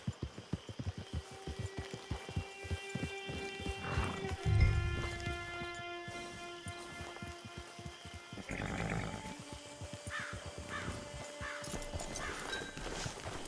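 Horse hooves clip-clop steadily over a music bed in Red Dead Redemption 2 Online, with a horse snorting and whinnying partway through, like game audio.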